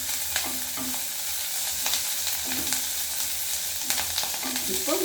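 Moringa leaves sautéing with garlic and green chilli in a pan for cutlets, a steady hiss of frying with repeated scrapes and stirs of a spoon, close and moderately quiet.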